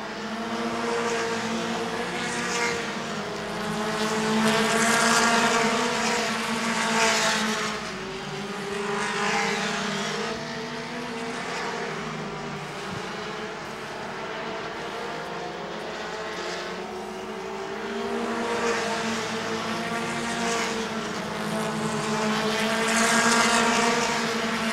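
Mini stock race cars at Angola Motorsport Speedway roar around the oval in a steady, layered engine drone that swells and fades as the pack passes, heard from a distance with no talking.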